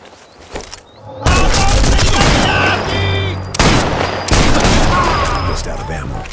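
Heavy gunfire in a Sniper Elite 4 battle, dense bursts and loud impacts rolling almost continuously, with shouting voices breaking through the din.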